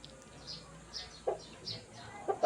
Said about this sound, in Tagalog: update ko lang po kayo sa ating mga manok